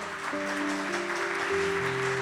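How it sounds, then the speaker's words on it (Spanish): A church congregation at an Easter Sunday healing service applauds in a soft, continuous wash under sustained organ or keyboard tones, fairly distant and faint. "Denle un fuerte aplauso al Señor."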